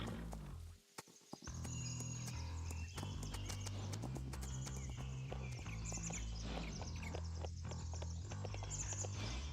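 Horse hooves clip-clop in Farming Simulator 22, a steady stream of close, rhythmic hoof clicks over a low engine-like hum that carries on without pause after a short dip near the start.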